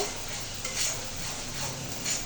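Spice masala stir-frying in a pan for Bengali egg bhuna, a continuous close hiss and scrape with soft metal clinks of the spatula against the pan, steady and alone without voices.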